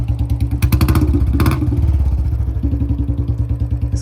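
A Royal Enfield Bullet Standard 350 motorcycle idles just after starting, its single-cylinder thump beating in a steady, even rhythm close by, with a few mechanical clatters over the first second and a half.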